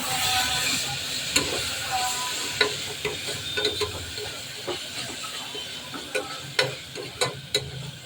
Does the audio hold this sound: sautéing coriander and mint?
yes